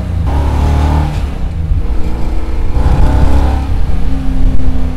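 Custom 1968 Camaro with a 600 hp in-house built engine, Brodix heads and long tube Hooker headers, revving loudly up close with throaty, rising and falling bursts.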